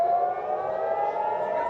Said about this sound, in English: Sirens rang out in Israel